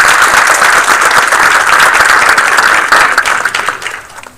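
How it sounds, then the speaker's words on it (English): Audience applause at a township council meeting, a loud, steady burst of many hands clapping that holds evenly before tapering off near the end. "So, a round of applause for her."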